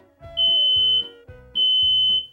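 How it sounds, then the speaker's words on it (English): A smoke detector alarm sounds in two loud, piercing high-pitched bursts, each about a second long, with a brief gap between them and no voices. "if your room is filled with smoke and the smoke detector sounds"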